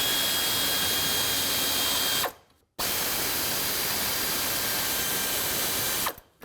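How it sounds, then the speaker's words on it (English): A pneumatic air ratchet loosens 10mm bolts on the serpentine belt tensioner of a 2004-2008 Ford F-150 with the 5.4L engine. It whirs loudly and steadily in close bursts, stopping briefly between runs. "Just going to use my air ratchet to speed up the process."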